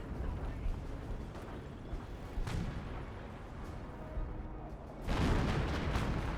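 Artillery fire rumbling in a Company of Heroes battle, low booms under continuous noise and talk, with a heavier blast near the end.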